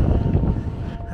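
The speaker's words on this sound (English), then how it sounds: "It's getting a little bit windy up here now." Wind gusts across the rim of Caldera Blanca volcano crater on Lanzarote, buffeting the microphone with a steady, loud low rumble for the whole moment.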